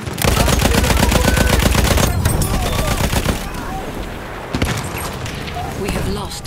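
Rapid sustained fire from a Lewis gun in Battlefield 1, a loud close stream of rattling shots for about three seconds, then scattered distant gunfire and explosions with voices in the background.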